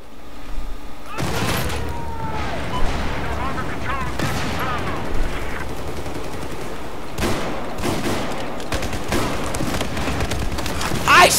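Rapid bursts of automatic gunfire and sharp explosive booms from Battlefield 4 multiplayer combat, loud and close, with repeated heavy blasts spread across the clip and a voice shouting briefly among the shots.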